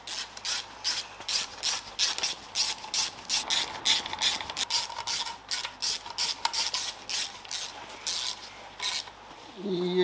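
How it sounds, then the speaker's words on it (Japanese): Ratchet wrench tightening bolts on a Caterham Super Seven transmission during a semi-overhaul, rapid repeated clicking strokes in a steady rhythm, close and clear, ending with a brief knock. "これでネジ締めちゃいます。"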